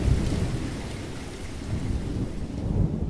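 Thunder rumbles and rolls through a heavy rainstorm, deep low booms swelling at the start and again near the end over a steady wash of falling rain, with no voices.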